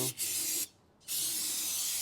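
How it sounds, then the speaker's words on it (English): Brake cleaner sprayed onto a rag while working on a Scout II differential, two close, loud hissing bursts of aerosol spray separated by a brief pause. "Good technique, spray the brake clean on the rag."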